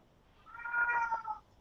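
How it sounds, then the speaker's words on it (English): A house cat gives a single drawn-out meow, close and clear, rising and falling over about a second with no other sound around it. "Oh, there's my cat."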